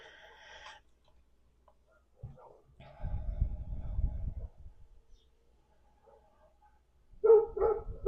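A dog barks a few times at a distance, brief faint yips and woofs with quiet gaps between them.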